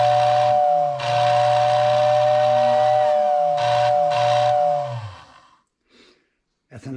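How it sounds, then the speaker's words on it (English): A Lionel 726 toy train steam whistle blows in several long, breathy blasts with a mechanical hiss, stopping and restarting, then fades to quiet. "That's a nice whistle."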